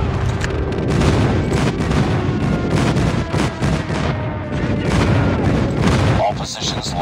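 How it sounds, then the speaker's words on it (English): Airstrike explosions and gunfire in the mobile shooter Call of Duty Mobile, dense and loud with rumbling booms and rapid shots running continuously, with game voice announcements over the top. "Friendly airstrike incoming."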